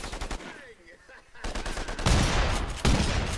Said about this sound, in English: Oh, I love this trench gun.